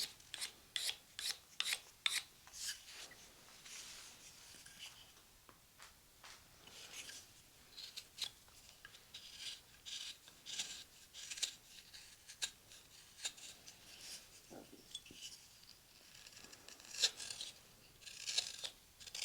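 A knife carves a wooden coffee scoop, making quiet, close scraping and shaving strokes in an irregular rhythm with no talking.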